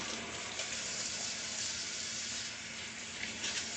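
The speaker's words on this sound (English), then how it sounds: "I'm going to wash my hands. Soap in water." Kitchen tap water runs continuously into a sink while hands are washed with soap, a steady hiss of flowing water close by with no talking.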